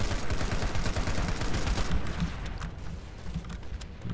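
Gunfire rattles in the Planetside 2 video game, rapid bursts of shots dense at first and then thinning out into scattered cracks, moderately loud with no talking.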